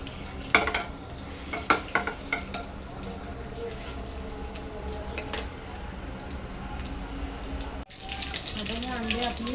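Eggs sizzle in a frying pan for a dhaba-style egg masala, a steady close frying hiss broken by a few scraping clinks of a spatula turning them, with faint talk underneath.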